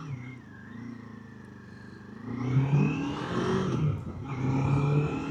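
A Kawasaki KLE500 SE motorcycle is ridden with its engine droning steadily, then rising in pitch as it accelerates and revs, heard close up with wind rush and no talking.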